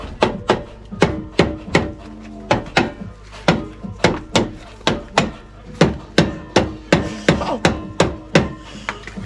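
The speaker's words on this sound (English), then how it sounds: "Hammer" A hammer strikes metal while someone works on a Porsche 924 suspension, giving about twenty loud, close, sharp blows in a fairly steady rhythm, some coming in quick pairs, with no talking.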